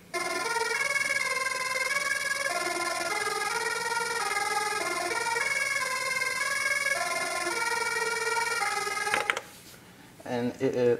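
Fast arpeggiated riff from a microKORG synthesizer with the arpeggiator set to speed 300, bright stepping notes repeating continuously before cutting off near the end, followed by brief noise.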